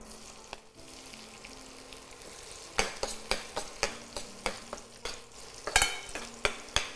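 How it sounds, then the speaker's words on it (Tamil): Chopped onions fry in hot oil with a steady sizzle while a utensil scrapes and clacks against the pan in a quick, repeated stirring rhythm. "நம்ம நறுக்கி வச்சுருக்க வெங்காயத்தை சேர்க்க போகிறோம்"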